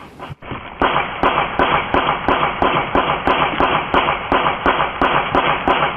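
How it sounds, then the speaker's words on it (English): Rapid string of sharp gunshots fired during a home invasion, caught by a dash cam, cracking out in a steady series of about a dozen loud bangs with echoing tails, no talking. "You can actually hear those gunshots ringing out."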